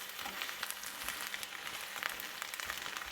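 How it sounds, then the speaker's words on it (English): Garlic and green chili frying in a pan, a faint, even crackling sizzle with scattered light pops throughout. "Just let it fry through."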